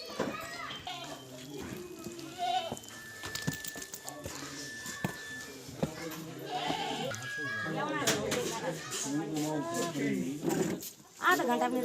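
A herd of goats bleating close by amid lively children's voices and chatter, the wavering calls overlapping repeatedly and loudly throughout.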